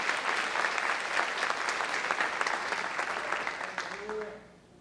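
A church congregation claps together in a loud, dense round of applause during a sermon, holding steady before tapering off near the end as a voice begins to speak.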